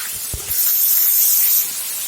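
Goat mutton pieces tipped into hot oil in a pan for pea ghugni give a short burst, then a steady loud sizzling hiss close by, with no talk.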